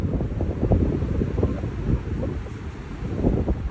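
Steady wind buffets the microphone on the Appalachian Trail with a low, continuous rumble and rustle, no voices, constant throughout.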